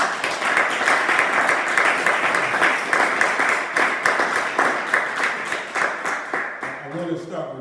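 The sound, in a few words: audience round of applause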